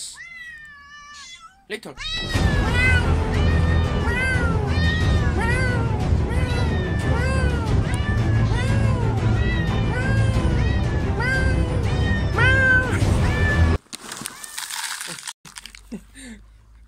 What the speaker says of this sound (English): I'm here to feed the cats.